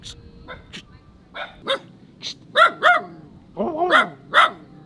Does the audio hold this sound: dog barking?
yes